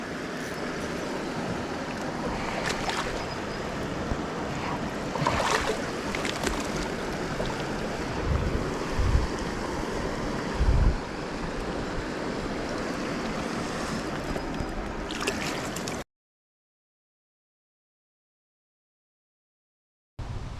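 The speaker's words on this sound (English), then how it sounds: "The wind's starting to pick up as well" Strong wind gusts roar across a microphone beside the high, fast-flowing Goulburn River, steady loud buffeting over rushing water with a few heavier bumps, then a sudden cut to silence near the end.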